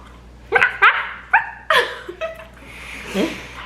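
A dog barks several times in sharp, close bursts, a handful of loud yelps spaced about half a second apart, with a softer whine toward the end.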